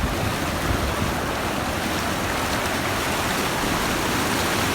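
Continuous broadband rush of a flowing stream, steady and close, with no voices.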